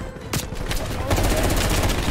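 Rapid gunfire bursts from the Call of Duty Cold War video game, loud and dense throughout with repeated shots layered over game noise, starting in earnest after a short quieter lead-in.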